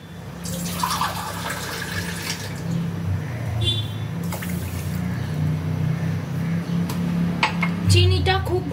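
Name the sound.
water being added to sugar in a pot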